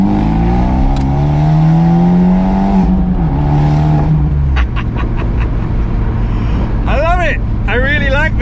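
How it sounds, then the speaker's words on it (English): An Abarth 124 with a Monza exhaust and sport catalytic converter, driven hard, drops gears with engine notes falling and rising through revs, loud and close in the cabin, followed by sharp pops and crackles on the overrun. "It sounds so good on downshifts as well."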